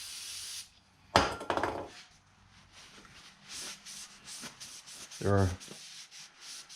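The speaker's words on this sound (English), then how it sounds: "So we're going to go ahead and clean this axle shaft off and then re-grease it." Motorcycle rear axle shaft on an Indian Scout Bobber being cleaned: scattered scraping and rubbing strokes with a couple of sharper metallic knocks, close up and fairly quiet.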